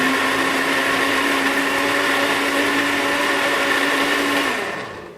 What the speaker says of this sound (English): for my blender, I'm just going to give this a blend